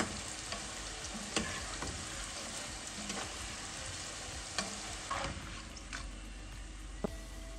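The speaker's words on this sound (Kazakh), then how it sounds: "Осылай бауырсақтарымызды қуырып аламыз." Shi baursak fry in hot oil with a steady, close crackle and sizzle, while frequent clinks, scrapes and wet pops mark the pieces being stirred and turned; nobody speaks.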